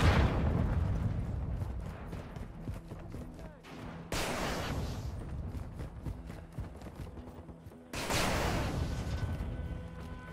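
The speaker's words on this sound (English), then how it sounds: "Hostile precision airstrike." Heavy explosions from a precision airstrike in Call of Duty: Modern Warfare II, loud rumbling blasts with two sharp new impacts landing about four seconds apart amid ongoing battle noise.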